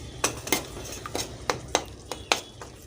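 Masala spices fry over low heat in oil in a pan as a metal spoon stirs them, giving sharp scraping clinks roughly every quarter second over a faint background hiss.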